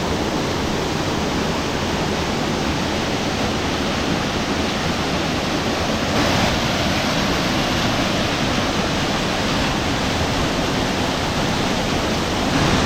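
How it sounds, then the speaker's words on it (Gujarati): Hathmati waterfall near Himmatnagar in Sabarkantha pours with a loud, dense, steady roar, a thick continuous wash of falling water close by with no voices over it. "મારી પાછળ તમને દેખાતું હશે કે જે ઝરણું પડી રહ્યું છે ને એનો અવાજ, બહુ જબરજસ્ત અવાજ આવી રહ્યો છે"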